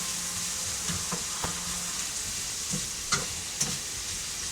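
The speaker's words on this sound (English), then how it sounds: "as you hear the onions sizzling in the background," Onions sizzling in a pan in a home kitchen, a steady soft crackling fry with occasional clicks and stirring knocks, fairly quiet and unbroken, with no voices.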